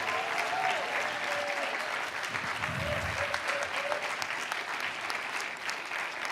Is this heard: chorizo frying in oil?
no